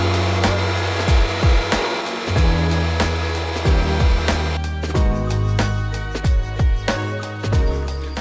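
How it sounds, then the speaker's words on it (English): Wooden rafters being fed through a thickness planer, a loud steady machine whine with repeated short bursts and thumps as each board enters and passes through the cutter, close by. "now I'm going to send these rafters through the planer so they get a consistent thickness"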